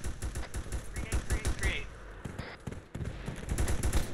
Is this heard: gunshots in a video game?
yes